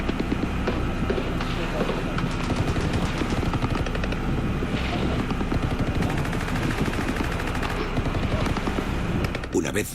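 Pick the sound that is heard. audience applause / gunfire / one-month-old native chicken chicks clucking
gunfire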